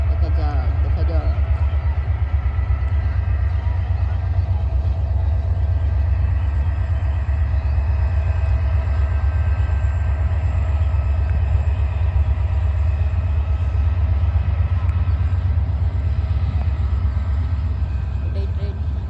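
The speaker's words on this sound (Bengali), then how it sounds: "ট্রেনের স্পিড বাড়িয়ে দিয়েছে ইতিমধ্যে" A moving train rumbling steadily at speed, a loud continuous low roar of wheels and carriages close by with no clear pause, heard from on board.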